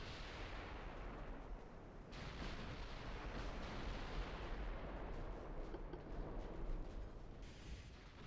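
Booming battleship gunfire from the naval game Ultimate Admiral: Dreadnoughts, a continuous heavy rumble of distant salvos and explosions that swells and rolls steadily with no talk over it.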